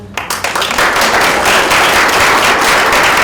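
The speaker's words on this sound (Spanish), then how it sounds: "Demos un aplauso a la doctora" A crowd at a scientific seminar bursts into sustained applause, steady dense clapping that fills the space after a brief quieter start.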